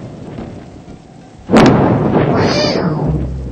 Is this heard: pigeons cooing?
no